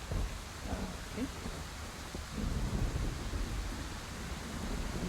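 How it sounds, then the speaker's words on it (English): Steady rain hisses throughout a stormy scene in the Scarlet Hollow video game, with low rolling thunder swelling underneath midway. No voices are heard. "You're outside. It's raining."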